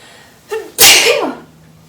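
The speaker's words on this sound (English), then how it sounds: "Could even sneeze." A single close, loud sneeze, a short inhale followed by a sharp explosive burst, then quiet.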